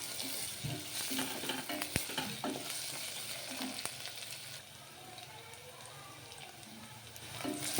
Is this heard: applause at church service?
no